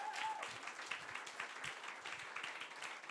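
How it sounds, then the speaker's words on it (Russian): Faint, steady audience applause for a teen team's skit at a church service, a continuous patter of clapping heard from a distance. "Дайте большие аплодисменты."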